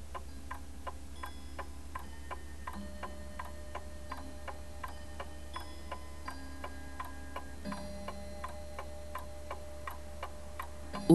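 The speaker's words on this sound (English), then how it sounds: "The clock marking off each hour of dread" A clock ticks steadily and evenly, a quiet regular tick-tock with a faint low hum underneath in an otherwise still room.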